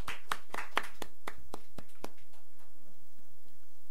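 A church congregation at Sunday worship claps in rhythm, a run of sharp, evenly spaced claps that fade out after about two seconds, leaving quiet room tone.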